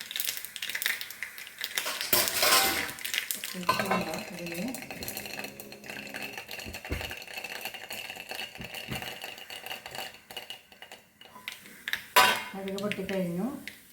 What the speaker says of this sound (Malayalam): കടുക് പൊട്ടിക്കഴിഞ്ഞു